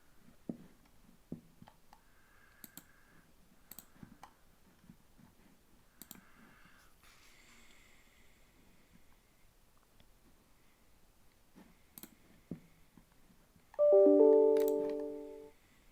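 Sparse, faint computer mouse clicks on a quiet desk while a link is clicked during web hosting setup, single soft taps spread irregularly with no talking, ending in a brief louder electronic tone.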